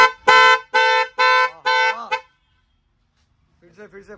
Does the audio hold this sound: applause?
no